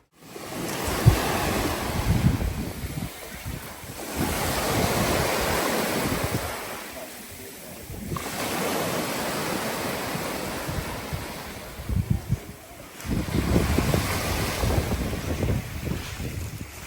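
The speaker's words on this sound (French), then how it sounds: "La plage Albatros." Black Sea waves at Albatros beach in Sochi, Russia: repeated swells of surf washing in and receding every few seconds, steady and fairly loud, buffeted by wind noise, with no talk.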